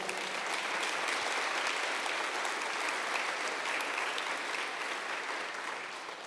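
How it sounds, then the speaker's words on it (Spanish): A church congregation breaks into loud, sustained applause, a dense wash of clapping that holds steady for several seconds before easing slightly at the end. "Denle un fuerte aplauso al Señor."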